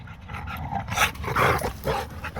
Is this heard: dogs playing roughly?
yes